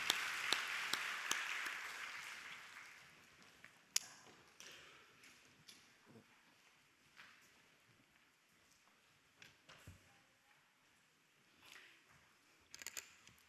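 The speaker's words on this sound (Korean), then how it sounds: "박수해 주세요" Church congregation applauding at a Friday late-night prayer meeting during a children's department presentation, starting fairly loud and thinning to scattered claps and quiet room noise within a few seconds.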